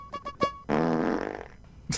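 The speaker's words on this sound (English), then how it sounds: "Of course, a fart joke made me laugh." A comedic fart sound effect in a YouTube Poop edit, a long buzzing, rippling blast lasting about a second, preceded by short tonal beeps and ending in a sharp noise burst.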